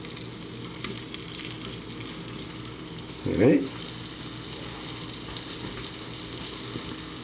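Steady sizzling and crackling of potatoes frying in a pan, continuous throughout, with a brief short word spoken midway.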